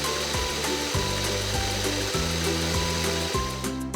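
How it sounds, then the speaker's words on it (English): Blender grinding spices into a paste for an Indonesian rendang, a steady buzzing motor drone with rhythmic dips as the load shifts, close and continuous. "you're using it to blend the spices into a paste"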